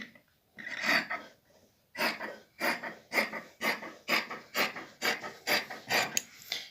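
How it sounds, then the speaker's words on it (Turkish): Scissors cutting fabric for a pocket yoke on a robe, close by: a steady series of about a dozen rhythmic, crisp snips and rasps, each lasting roughly a third of a second, with a short pause before the run. "Bunu şuradan şöyle kesiyorum."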